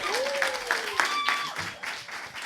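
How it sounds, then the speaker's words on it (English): An audience applauds a band at a Tulsa music jam session, the clapping steady and moderately loud beneath overlapping voices and a brief sliding tone, then thinning toward the end. "Give them a round of applause."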